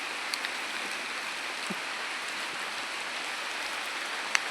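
Rain falls steadily outdoors on the way to the Kondana caves, a soft continuous patter with a few sharper drops. It stays even and fairly faint throughout, with no voices.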